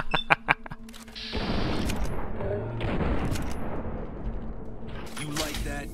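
Gunfire in the video game Fallout New Vegas: rapid rattling shots at the start, then a dense, loud sustained volley of combat noise with explosions and continuous battle sound.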